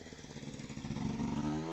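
A 250 KTM motorcycle races off up a hillclimb course, its engine revving hard and rising in pitch as it accelerates, loud and close throughout the short burst.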